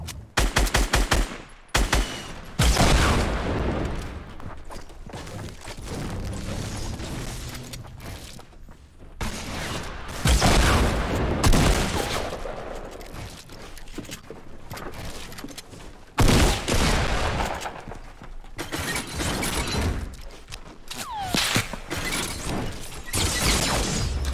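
Fortnite gunfire crackles in dense bursts of rapid shots, loud and close, with short gaps between volleys and clattering impacts throughout.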